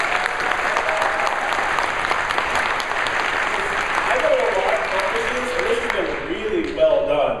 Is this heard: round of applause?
yes